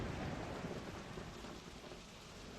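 Steady heavy rain pours throughout in a survival video game played on foot, a dense, constant hiss close by with no talk over it.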